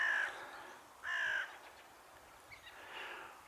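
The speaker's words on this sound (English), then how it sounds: "Sounds like a crow." A crow caws outdoors on a countryside walk between Warmington and Fotheringhay, two short harsh calls about a second apart, fairly distant, followed by fainter bird sounds.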